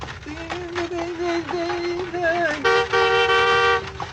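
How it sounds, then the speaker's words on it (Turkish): A car horn honks again and again, loud and close, with short blasts and then a longer sustained blare over engine noise. "2 saattir korna çalıyorum, sağır mısın?"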